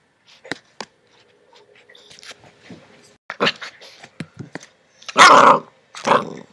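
A puppy growls and lets out short barks up close, scattered yaps building to a couple of louder bursts near the end, with a person talking softly in between.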